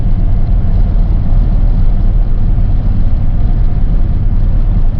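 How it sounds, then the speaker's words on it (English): A car cruising in 4th gear at about 50, producing a loud, continuous low engine rumble and road drone heard close up from inside, with no pauses. "We got her in 4th gear. We got her up to 50."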